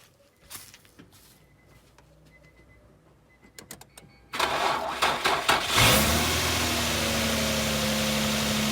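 A car is restarted off a Xiaomi 70mai jump starter: scattered clicks first, then the starter cranks in a burst of uneven chugs for over a second before the engine fires and holds a steady, nearby idle.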